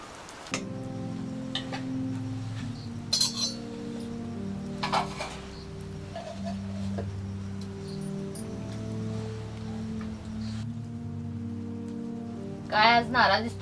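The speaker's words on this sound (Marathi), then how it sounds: "बाबा काय हा अवकाळी पाऊस कवा बी येतो या कवा बी जातो" Unseasonal rain falls on a farm as a soft, steady patter with scattered drips over a low background hum, faint and continuous.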